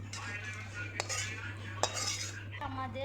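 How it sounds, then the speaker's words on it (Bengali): Prawn masala is spooned out of a pan into a serving dish, a few sharp metal clinks and scrapes of a utensil against cookware over a low steady hum, close and otherwise quiet. "একটা পাত্রে ঢেলে নিলাম"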